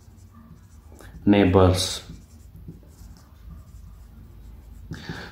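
Marker writing on a whiteboard, a brief burst of squeaky scribbling strokes up close, with someone talking before and after.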